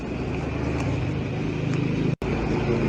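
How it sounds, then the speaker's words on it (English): Motorcycles passing on a road near Deer Creek in Clearfield County, a steady loud engine roar with low rumbling throughout, briefly cut by a moment of silence before resuming. "Oh, there were trucks, or not trucks, motorcycles."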